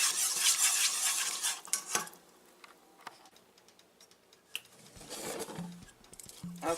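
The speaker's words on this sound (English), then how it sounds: "you have to constantly keep stirring this so that it doesn't burn" Gumbo roux being stirred in a pot, with a spoon scraping and tapping against the metal in bursts and light sizzling underneath, the stirring fading between louder spells.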